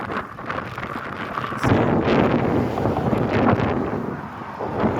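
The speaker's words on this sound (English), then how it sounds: "It's too windy. Blows through the windows." Strong wind of 30 to 40 mph on Fort Myers Beach, Florida, roars and buffets the microphone in a steady rush, swelling louder partway through and staying loud to the end.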